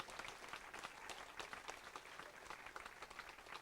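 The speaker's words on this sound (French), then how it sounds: "On applaudit bien fort Fabrice s'il vous plaît" A live audience at a summer village TV event in Montret claps for a performer named Fabrice, a steady wash of applause at moderate volume with no talk over it.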